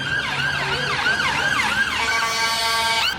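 An ambulance siren on a London street wails loud and close in rising and falling sweeps, then switches to a steadier high tone before cutting off, with traffic rumbling beneath and no voices.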